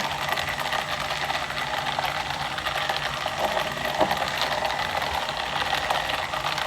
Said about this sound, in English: And I kind of rotate the mixer a little bit.